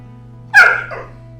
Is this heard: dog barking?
yes